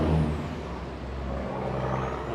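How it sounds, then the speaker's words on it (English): Heavy trucks passing close by on a road, a loud rumbling roar with a brief air-brake-like hiss at the start, steady throughout with no talking. "Noisy trucks."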